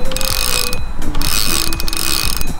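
A fishing reel's drag clicks in rapid ratcheting bursts as a carp takes line on a Slovenian carp water, loud and close, with brief gaps between runs and no talking.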